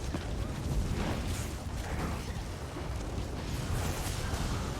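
Haunting Curse's second detonation in Elder Scrolls Online combat, a dense, sustained roar of blasts and rumbling impacts that continues loud and unbroken for the whole stretch.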